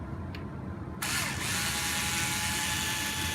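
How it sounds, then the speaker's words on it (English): A small power screwdriver removes screws from the transmission casing of a Team Associated CR12 RC 4x4 crawler: a brief click, then a continuous close whirring buzz with a faint ratcheting edge, steady and alone. "we can go ahead and remove the 4 screws around the casing"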